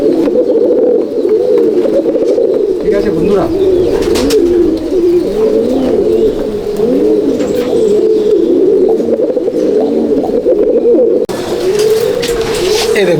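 Andhra and Madrasi pigeons in a loft at Taton Pigeon Loft, Halisahar, coo nonstop, many overlapping rolling calls close and loud, with someone briefly speaking.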